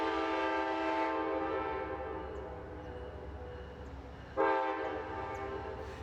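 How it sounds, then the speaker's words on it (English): Amtrak's Cardinal passenger train rolls into the small Alderson station platform, a steady rumble of wheels and rails with a loud horn sounding near the start and again sharply near the end. "He gives us a view of the Cardinal coming into the station"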